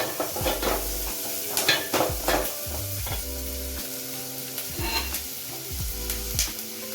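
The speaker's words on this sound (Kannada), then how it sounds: "ಈಗ ಗೋಲ್ಡನ್ ಬ್ರೌನ್ ಕಲರ್ ಆಗೋ ಸ್ವಲ್ಪ ಫ್ರೈ ಮಾಡ್ಕೋಬೇಕು" Onions frying in oil with salt until golden brown while a spatula stirs them, soft steady sizzling under repeated scraping strokes against the pan, with a few low clunks and a faint tone, close and quiet.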